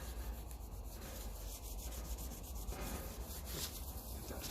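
Corroded battery terminals on a 1954 Ferguson 20 TEF diesel tractor being scrubbed clean, a faint, close rasping rub repeated in short strokes.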